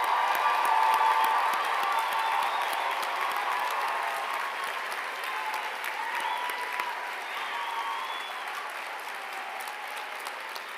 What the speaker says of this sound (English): Let's give all of our graduates and Bill one more round of applause.